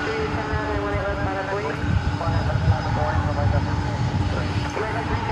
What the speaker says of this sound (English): That was Flight 777 coming in from Las Vegas,